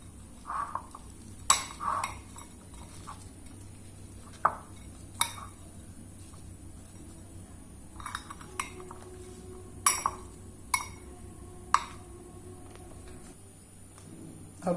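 Sev being mixed into egg chaat in a bowl, light metallic clinks and taps of a spoon against the dish at irregular intervals over a quiet background, with no speech.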